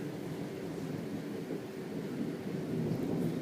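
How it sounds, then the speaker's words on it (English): Steady roar of pouring rain with low rumbling from a thunderstorm, dense and continuous throughout, with no voices. "It is thundering and lightning here. It is pouring. I'm sure you could hear it."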